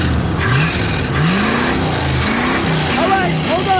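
A 1987 Cadillac 5.0 engine revs hard in repeated rising and falling pulls near redline, loud and close, with people talking and shouting over the roar.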